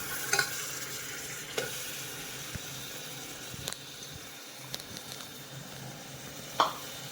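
Ground masala paste being stirred into dal in a pan, with a faint low sizzle, a few soft scrapes and spoon taps, and one sharper clink near the end.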